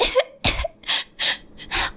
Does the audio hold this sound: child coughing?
yes